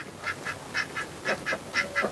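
A duck quacking in a kitchen garden in spring, about eight short, clear quacks in a quick, slightly uneven series, fairly close and alone.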